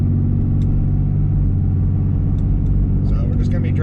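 Truck with a 68RFE automatic transmission and a new valve body driving gently around, a steady low engine rumble heard from inside the cab, continuous and fairly loud, with a person talking over it.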